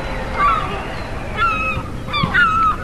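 Gulls at an outdoor owl parade give a few harsh, honking calls in short bursts over steady background murmur, fairly close and clear.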